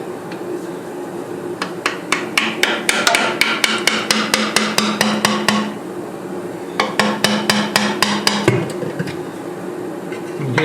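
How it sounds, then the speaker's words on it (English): Rapid sharp metallic knocks on a Toyota Tacoma 2.4 transmission pan as it is freed from the transmission case, coming in two quick bursts with a low hum underneath. "You hear that little popping noise? That means that it broke loose."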